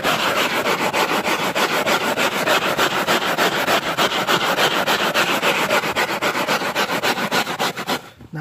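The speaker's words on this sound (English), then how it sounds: "Now I'll scrub the whole carpet, then I'll mop up with the microfiber towel." A brush scrubs car carpet soaked with cleaning solution, a loud and close rapid rhythmic scrubbing that continues steadily for several seconds before stopping briefly near the end.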